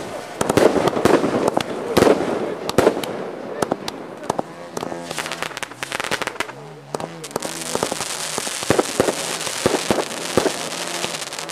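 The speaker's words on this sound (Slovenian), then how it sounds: "naslednji šov, to je streljanje raket" Model rockets go off at a model flying show, a rapid series of sharp pops and crackling bursts followed by a steady hissing rush, with a voice talking over part of it.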